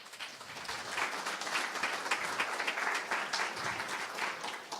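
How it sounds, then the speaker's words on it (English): Warm applause from a forum audience, many hands clapping steadily at moderate distance, rising quickly and holding throughout. "That's the most applause I got on."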